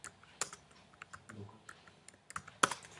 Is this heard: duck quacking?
no